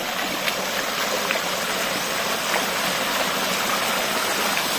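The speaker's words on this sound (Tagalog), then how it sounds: "May as tubig guys, oh." Flowing water from a stream rushes steadily and evenly throughout, a close, continuous broadband wash with no voices.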